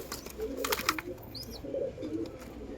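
Malwai pigeons and their chicks in a breeding loft, with soft low cooing in two short bursts over a steady background hum and a brief higher chirp.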